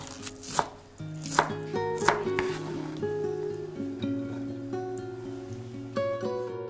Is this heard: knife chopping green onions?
yes